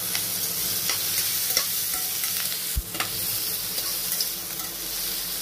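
Eggs fry in a pan with a pinch of salt and turmeric, giving a close, continuous sizzle with light spatula stirring and one sharp knock partway through.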